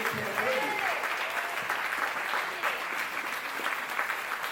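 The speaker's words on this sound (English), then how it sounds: "Let's give a giant round of applause coming from Miami" An audience at an Orlando business masterclass session applauds a speaker being introduced, a sustained, even wash of many hands clapping that stays steady throughout.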